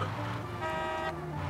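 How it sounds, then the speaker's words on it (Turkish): A car horn in the video game Mafia Definitive Edition gives one bright, sustained honk of about half a second over a steady engine rumble during a drive, loud and close. "Heh, kornanın güzelliğine bak ya."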